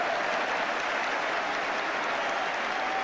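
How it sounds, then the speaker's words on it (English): Football crowd applauding at a 1983-84 West Ham United versus Manchester United match, a steady wash of distant clapping and crowd noise from a large stadium, even and sustained throughout. "You can see the applause that's coming up."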